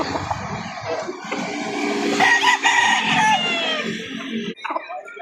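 At a poultry market, a rooster lets out one loud, drawn-out crow close by, rising and then cutting off, with chickens clucking around it.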